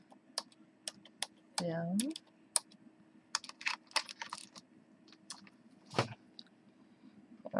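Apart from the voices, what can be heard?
typing on a computer keyboard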